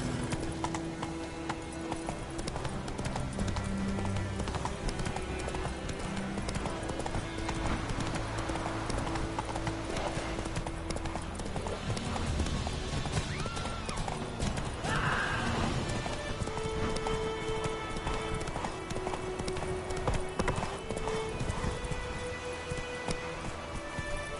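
Horse hooves clip-clop steadily while riding in The Witcher Wild Hunt, a continuous loud rhythmic trot with game ambience and occasional speech underneath.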